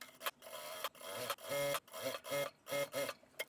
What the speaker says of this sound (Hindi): अब हम इसको ऐसे पलट के यहाँ पे साइड में सिलाई लगा देंगे।